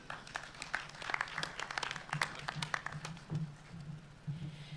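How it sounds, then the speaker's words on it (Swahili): An audience at a polytechnic graduation ceremony claps for the school board chair: faint, scattered hand claps from a distance that keep going unevenly. "Makofi mazuri jameni kwa Madam Chair wa bodi ya shule yetu"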